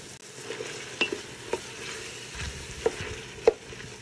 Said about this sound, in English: when the onion is translucent, we can now add the diced tomato and diced peppers